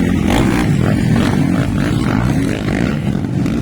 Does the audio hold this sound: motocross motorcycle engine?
yes